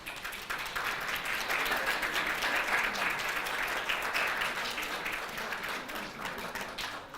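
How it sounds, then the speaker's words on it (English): Graduates at a health sciences pinning ceremony applaud their families and loved ones, a steady, dense wash of clapping that fills the hall for several seconds without pause. "round of applause."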